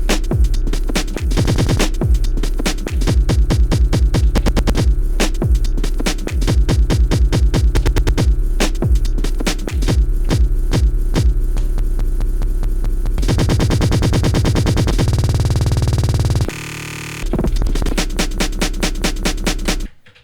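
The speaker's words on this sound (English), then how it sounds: "I'm just doing the Octatrack's echo freeze function all the time." An Elektron Octatrack runs its echo freeze beat-repeat effect over a loud electronic beat, with stuttering repeated slices that tighten into rapid buzzy retriggers, a brief dropout near the end, then the loop returns before cutting off.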